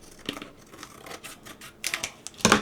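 Paper being trimmed down to fit a wooden dollar-store picture frame, giving quiet scattered snips and rustles with a louder crisp cut near the end, no talking.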